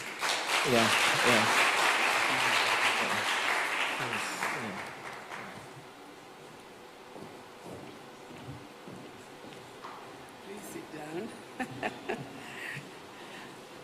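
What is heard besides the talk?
audience applause for a speaker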